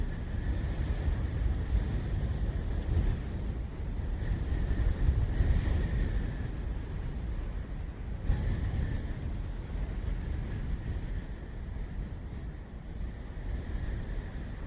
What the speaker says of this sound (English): your main company being the wind that rushes past you